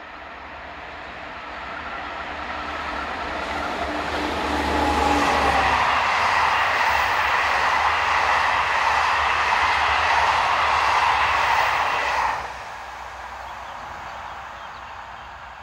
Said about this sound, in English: The loco is booked to return on the 1007 Caen to Paris and is seen here approaching